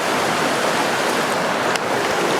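Shallow water of the Jacks River rushes over rocks at a trail crossing, a loud, broad, unbroken hiss of flowing stream with a faint tick or two partway through.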